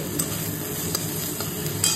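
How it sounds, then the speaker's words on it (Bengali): Vegetables frying in a pan for chowmein, a steady close sizzle with light stirring scrapes and a few brief clinks, no talk. "এখানে সবজিগুলো ভাজছি"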